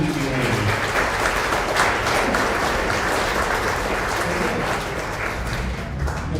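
Steady applause from a room full of people, a dense wash of clapping that stays loud and even throughout.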